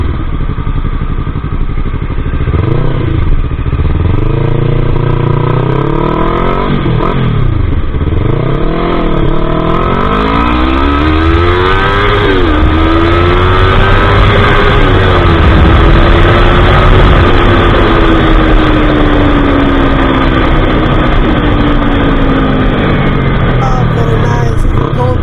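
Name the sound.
Yamaha YZF-R3 2024 motorcycle engine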